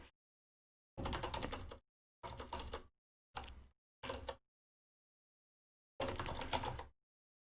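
Bursts of typing on a computer keyboard, heard as five separate runs of rapid key clicks with silent gaps between them, fairly close and quiet with no talking.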